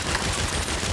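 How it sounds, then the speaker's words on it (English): Rapid bursts of gunfire from a convoy fight in Saints Row (2022), dense and continuous across the whole second with no talk over it. "why am I seeing gunfire at the back of that convoy?"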